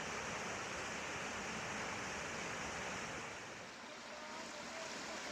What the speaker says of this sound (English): I stop and enjoy a small babbling brook.